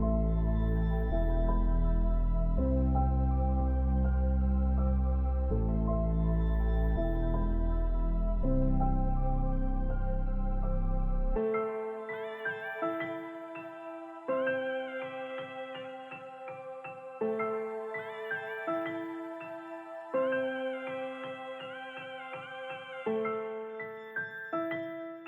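A sad piano loop with reverb, produced in FL Studio, plays slow sustained chords with a heavy low end, then shifts to brighter repeating notes with echoing tails, alone and moderately loud.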